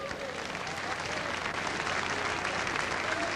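Applause from a church congregation fills the room as a continuous, dense wash of clapping, steady and fairly loud throughout.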